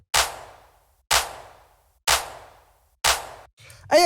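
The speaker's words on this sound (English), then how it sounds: "It's more just about finding like this very fat and full sounding clap." A fat, full clap sample from a house track repeats four times at an even one-per-second pulse, each hit sharp and loud with a short decaying tail, followed by a brief glitchy tonal sound.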